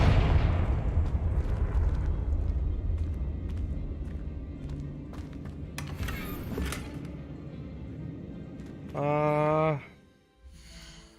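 Confringo explosive spell blasts from the Hogwarts Legacy video game, a dense booming rumble of repeated bursts over several seconds, then a brief tonal magical whoosh near the end.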